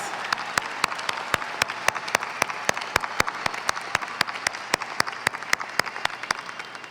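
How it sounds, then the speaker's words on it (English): Sharp, hollow claps ring out in a regular rhythm over a broad bed of steady audience applause at a graduation commencement ceremony, continuous and fairly close. "Please give these students a big round of applause"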